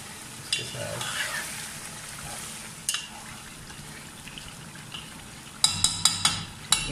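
Mutton masala sizzles and fries in a pan while a spoon stirs it, a steady crackle with faint scrapes and a short burst of sharper clinks of utensil on the pan near the end; no one talks.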